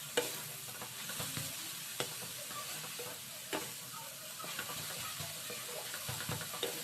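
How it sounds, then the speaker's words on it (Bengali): Grated carrots fry in a pan and are stirred continuously for Bengali carrot kheer, a soft, steady sizzle broken by repeated scraping strokes and light clanks of the spoon. "তাও একটু নাড়াচাড়া করে নিচ্ছি কন্টিনিউ নাড়াচাড়া করেই করতে হবে"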